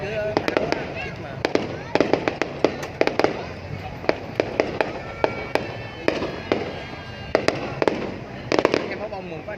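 Fireworks launched over a city celebration in Long Khanh, Vietnam: a string of sharp cracks and pops firing in quick irregular volleys, loud and fairly near, with people talking throughout.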